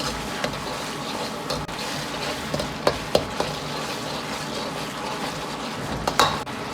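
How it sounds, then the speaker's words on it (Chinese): Diced tomatoes with salt stir-fried in a wok for a tomato and sole fish dish, a steady close sizzle with occasional scraping clicks of the spatula. "先下入切好的西红柿丁煸炒出颜色，放入适量的盐一起煸炒"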